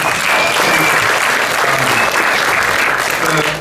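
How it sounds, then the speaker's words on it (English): An audience at a premiere panel breaks into a steady, loud burst of clapping that holds at full strength throughout, with a crowd murmur underneath. "The applause break that Caleb got for talking about the flashba"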